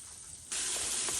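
Mushrooms and onions hitting a hot pan on the stove, a sudden bright sizzle that starts about halfway through and holds steady and close, replacing a faint hiss before it.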